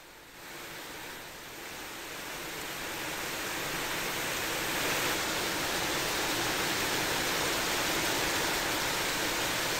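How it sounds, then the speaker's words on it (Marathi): Floodwater roars in a river swollen by heavy monsoon rain in Konkan, a dense, continuous rushing hiss that swells during the first seconds and then holds loud and steady. "अनेक नद्या दुथडी भरून वाहत आहेत"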